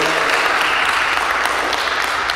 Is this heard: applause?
yes